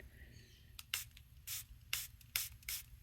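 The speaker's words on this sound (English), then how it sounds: "I wonder if I need to spray some glycerin on this" Several short hissing bursts from a spray bottle of glycerin water, quiet and close, spaced irregularly with brief pauses between them.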